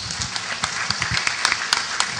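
Audience clapping at a centenary ceremony for José María Arguedas, a short burst of applause with scattered irregular claps throughout.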